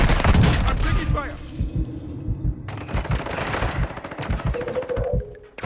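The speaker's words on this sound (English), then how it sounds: "I'm taking fire." Automatic gunfire in Call of Duty: Modern Warfare II, loud rapid bursts of shots with booming impacts, a brief lull, then renewed sustained firing; a voice is heard at the start.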